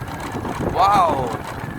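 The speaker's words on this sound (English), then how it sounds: "Now the wind going up." Wind rushing past a motorbike ridden through countryside rice paddies, a steady loud roar that swells briefly in the middle, with a faint tonal whine riding on top.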